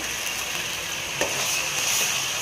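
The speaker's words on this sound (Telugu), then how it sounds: "ఈ అల్లం వెల్లుల్లి పేస్ట్ పచ్చివాసన తీయేంత వరకు బాగా ఫ్రై చేయాలండి." Ginger garlic paste sizzles steadily in a hot pan while being turned, with a continuous frying hiss and one brief scrape midway, close and fairly loud, no voices.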